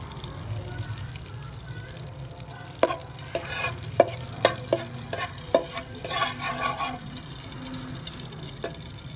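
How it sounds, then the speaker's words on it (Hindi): Nuts fry in a pan for gur panjeeri with a soft sizzle under the clatter of a spoon stirring and scraping, sharp knocks coming in irregular bursts close by. "तो हम सबसे पहले इसमें फ्राई करेंगे अच्छे से, हम कुछ नट्स हैं जो मैंने आपको दिखाया था उसको फ्राई करेंगे।"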